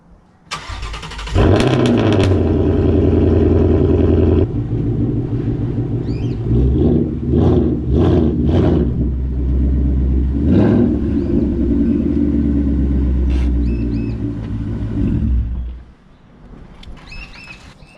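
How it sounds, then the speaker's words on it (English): A 2018 or newer Ford Mustang cold-starts with a quick crank and a loud roaring flare that settles into a high, busy idle, with a few sharp clatters over the steady rumble before it drops away near the end. "let's get a cold start on this video."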